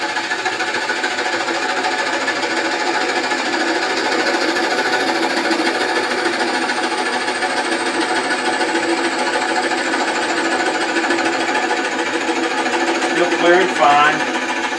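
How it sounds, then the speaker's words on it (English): A wood lathe at a little under 500 rpm with a drill boring into very fine, fairly dry wood, giving a steady whirring, grinding drone throughout with a brief scrape near the end. "we're just going to drill until we almost get to the 3-inch mark."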